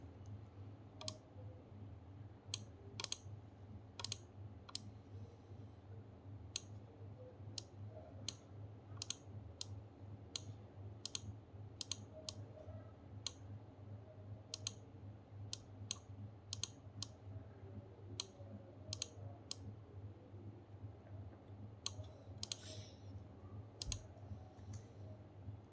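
Sharp, distinct computer mouse clicks and keyboard key presses while placing circuit-board components, spaced irregularly over a low steady hum, close and quiet with no talking.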